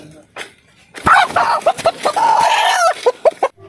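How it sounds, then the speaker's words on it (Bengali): Chickens squawking and clucking loudly at close range in a string of sharp, agitated calls that come in rapid bursts. "মুরগি চেঁচাই"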